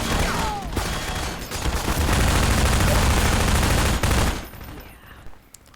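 Gunfire from a big battle in a video game: dense, continuous volleys of shots and rattling bursts, loud and close, then a sudden fade to quieter scattered sounds near the end.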